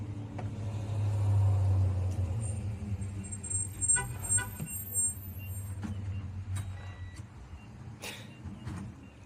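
A UPS delivery truck rumbles past nearby with a steady low engine drone that swells early on and then fades off, with a few scattered clicks and faint beeps over it.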